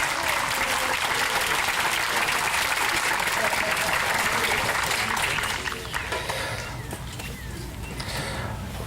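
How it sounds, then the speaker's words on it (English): Loud, dense applause from a community band concert audience greeting nearly fifty guest trombone players, steady for several seconds before easing slightly toward the end. "Yes, give them a round of applause."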